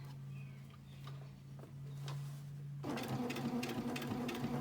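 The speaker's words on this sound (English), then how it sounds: "It's just straight stitching, sewing on the binding." A sewing machine straight-stitches binding onto a quilt, a quiet, steady motor drone with soft ticking that grows a little louder and busier partway through.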